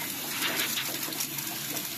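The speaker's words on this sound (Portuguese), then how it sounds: "Vamos dar uma pressão aqui na água." Water gushes steadily from a tap into a hair-washing sink, a continuous broadband rush close by with no talk over it.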